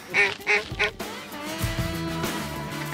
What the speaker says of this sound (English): Look at that wood duck come through here.